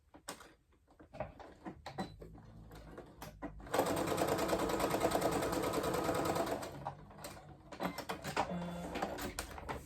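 A sewing machine stitches a 5.0-length line along a fabric edge for a bookmark. Scattered handling noises give way to a steady, loud run of fast needle strokes lasting about three seconds, then it stops and handling noises return.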